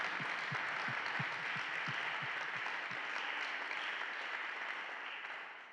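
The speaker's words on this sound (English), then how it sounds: "Can we give David a round of applause" Applause inside a cathedral during a commemorative event: a crowd claps steadily with a few distinct close claps at first, the reverberant patter fading slightly toward the end.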